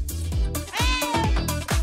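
A pet cat meows several times in quick succession, close and fairly loud, each call a short rising-then-falling wail with no talking over it.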